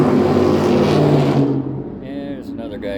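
A loud car with its exhaust cut off revs and roars past close by, its sound swelling and then falling away, with a voice talking over part of it.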